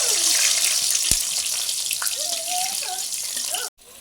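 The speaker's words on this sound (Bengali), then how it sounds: "তেল গরম হয়ে গেছে, কেটে রাখা পেঁপেটা ভেজে নেব।" Cut papaya fries in hot oil in a kadai for a duck curry, giving off a steady, bright sizzle and hiss that runs loud and close before cutting off abruptly, with a voice faintly audible underneath.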